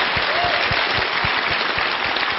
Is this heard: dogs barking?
no